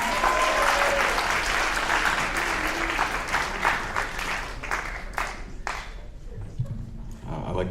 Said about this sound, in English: I like the slow clap